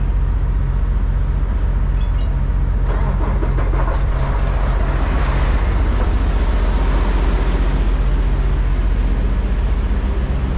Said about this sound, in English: I started the truck up too, so the engine warms up a little bit.